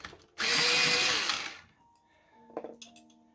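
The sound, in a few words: sharpening a Derwent Lightfast colored pencil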